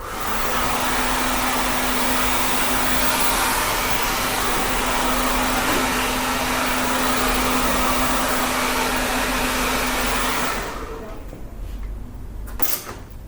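A hair dryer blows loud and steady up close on gel-styled short hair in a barbershop, a constant rushing roar that cuts off near the end, followed by a faint thump.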